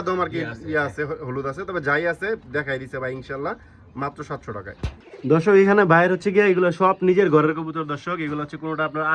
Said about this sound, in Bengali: এখানে অনেকগুলো কবুতর আছে